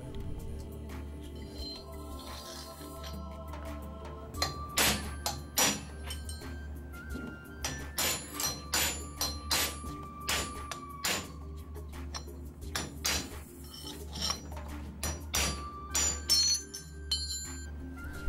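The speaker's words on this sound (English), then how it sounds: "drive the bushing out using a hammer and punch" Repeated sharp metallic strikes of a hammer on a punch driving a bushing out of a Toyota 4x4 front axle spindle, irregular in rhythm, ringing briefly over a low steady hum.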